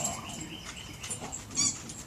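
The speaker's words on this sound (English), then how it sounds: "Dogs are fighting over a toy." Dogs tussling over a toy, heard as faint, low scuffling and growly noise in the background, with no clear barks and no one speaking.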